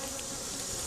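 Dense, steady buzzing of many honeybees around an opened hive box during an inspection after a split, a continuous close drone filling the whole second with no voices.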